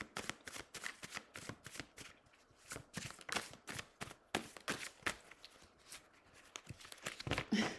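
Oracle or tarot cards are shuffled by hand in a steady run of crisp, papery riffles and slaps, close and fairly loud, with no talking.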